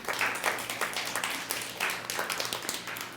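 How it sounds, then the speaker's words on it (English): Crowd applause at a live body language show, steady dense clapping from many hands, fairly distant and moderate in level, with no talk over it. "Give Rebecca a round of applause for that comment"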